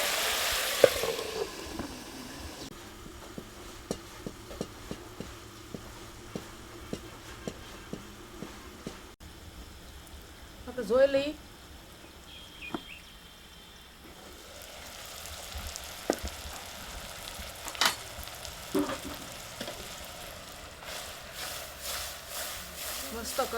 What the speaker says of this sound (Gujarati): એમાં આવજો હવે થોડું કકડે ને પછી આપણે મરચું નાખીએ